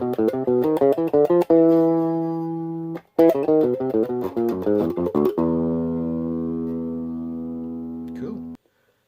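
Bass guitar riff descending through modes starting from Lydian with polymodal chromaticism, a fast run of plucked notes in two phrases separated by a short break, ending on a long sustained low note.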